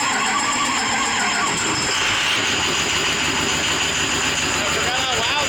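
A 6.0 Power Stroke diesel engine fitted in a 1965 Ford Mustang cranks and fires into a loud, steady rumbling idle that fills the whole stretch, its tone shifting as it catches about two seconds in.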